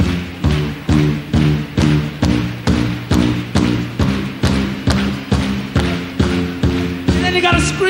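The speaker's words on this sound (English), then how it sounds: "You gotta stamp your feet." Concert crowd stamping their feet at a 1975 live rock show: heavy, evenly spaced thuds about twice a second, loud and booming, continuing in a steady rhythm throughout.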